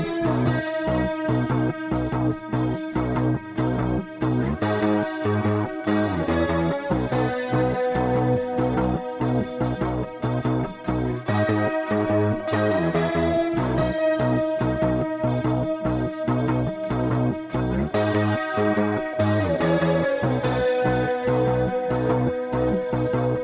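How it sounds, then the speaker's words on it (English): Layered grungy, not-super-clean guitar parts on a knockoff homemade Stratocaster stack into a dense, loud, continuous wall of rhythmic strumming with punchy repeated hits throughout. "So all the guitar parts together sound like this."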